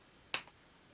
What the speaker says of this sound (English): so that when you snap your fingers and open your hand